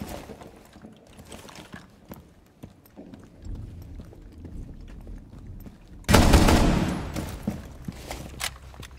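Scattered gunshots in the video game Rainbow Six Siege, a run of sharp distant cracks followed by a loud, close burst of fire near the end.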